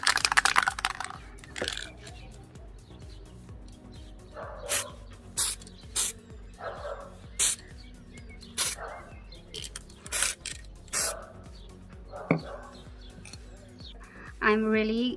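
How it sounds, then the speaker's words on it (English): Aerosol sealant is sprayed onto the face of a custom Blythe doll in short hissing bursts, repeated about a dozen times at close range, with a dog whimpering and a voice faintly in the background. "you should definitely spray this outside and not inside the house"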